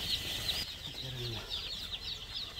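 Kadaknath chickens crowded in a large poultry farm give a steady mix of fluttering wings and soft clucks, a continuous busy flock sound at moderate level with no clear single call standing out.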